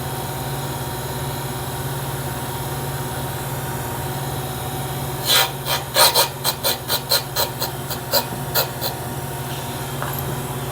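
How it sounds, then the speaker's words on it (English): A hand file squares the ends of engine valve stems with about a dozen short, crisp strokes in a steady rhythm, close up, over a constant machine hum in a workshop. "I'm just butting the stems right now. Just make a couple swipes so it's square"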